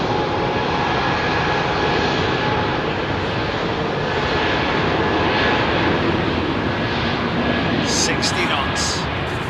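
Jet airliner on its take-off roll at Heathrow runway 27R, heard as a loud, close, steady engine roar filling the whole stretch, with speech over the top and a few brief clicks near the end.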